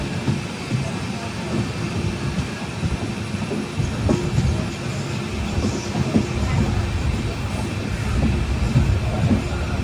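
LHB-coach passenger train rolling into Kuzhithurai railway station on the Tiruchirappalli–Thiruvananthapuram route, a steady broadband rumble of wheels and coaches with faint clicks and squeals, held at an even loudness throughout.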